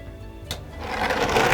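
Kitchen blender motor starting up on water and lemonade ingredients, a whirring hum that rises and grows louder across the moment after a short knock.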